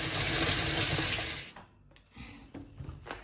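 Vegetables such as onions and rambutan are rinsed under a running tap into a sink, a steady loud rush of water that cuts off partway, followed by quieter splashes and handling noises.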